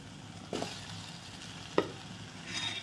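Cut potato pieces go into a pan of spiced oil for a drumstick vegetable curry, giving a quiet, soft sizzle with a couple of brief stirring scrapes close by.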